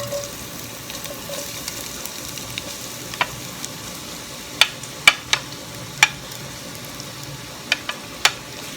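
Low frying hiss as onions are added to hot oil, punctuated by a handful of sharp, close crackles and pops that grow more frequent toward the end.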